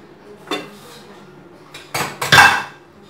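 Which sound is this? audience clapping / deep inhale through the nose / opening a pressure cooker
opening a pressure cooker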